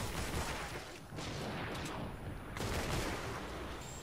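Rapid automatic gunfire from a weapon in Fortnite Save the World, a dense continuous stream of shots with brief pauses, fairly faint and sustained throughout.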